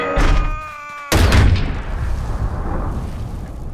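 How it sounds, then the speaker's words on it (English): A sharp blast followed by a heavy boom from a Boom Cannon in the game Boom Beach that rumbles and fades, set against tonal game music that cuts off abruptly at the impact. "Johnson, attack that boom cannon."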